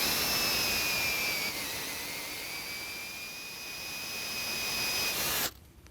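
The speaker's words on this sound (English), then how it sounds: "We'll drill another hole right next to that one for inspection purposes." A power drill bores into a wall with a continuous high whine, easing slightly mid-run then rising again before cutting off abruptly near the end, leaving near silence.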